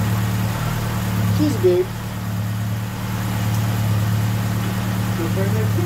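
A Ford Capri's Pinto engine idles steadily after an exhaust manifold gasket repair, a low continuous hum running throughout with people talking over it.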